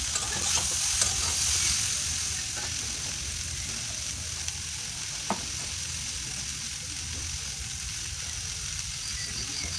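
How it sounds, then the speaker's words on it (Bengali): Chilies fry with salt in a pan, a steady, close hissing sizzle that carries on without letup, with a couple of faint clicks of the spoon against the pan. "লবণ দিয়ে ভালো করে ভেজে নেব"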